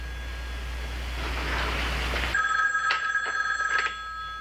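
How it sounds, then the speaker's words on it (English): After a steady low hum, a telephone bell rings in a few sharp, bright trills, close and loud. "Oh, Nurse Yarby, I think the telephone is ringing."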